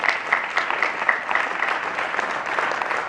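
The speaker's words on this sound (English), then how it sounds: "So can we get a round of applause for her" An audience at the ARPA International Film Festival opening night applauds award-winning composer Denise Gentilini, a sustained, even roar of clapping with a faint recurring tonal ping riding over it.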